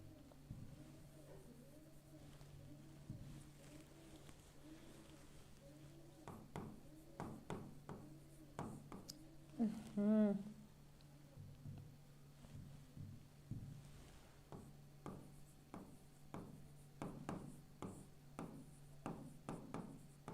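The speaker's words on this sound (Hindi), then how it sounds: "यहाँ लिखेंगे संस्कृत" Handwriting a Sanskrit answer with a pen on paper, soft scratchy strokes and light taps repeating in short bursts, faint and close, with a brief louder voiced sound partway through.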